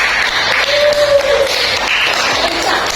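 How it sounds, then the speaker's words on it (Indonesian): Classroom applause for a student group: a short burst of many hands clapping, fairly close and filling the whole moment, with a brief voice in the middle. "kita beri aplaus untuk kelompok"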